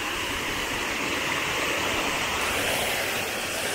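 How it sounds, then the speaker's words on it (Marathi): A small waterfall in a rain-swollen monsoon stream near a Konkan temple gives a steady, dense rush of falling water, close and unbroken throughout, with no voices. "हे बघा हा धबधबा आपण तिकडे जाऊन बघूया. हा छोटा धबधबा इकडे"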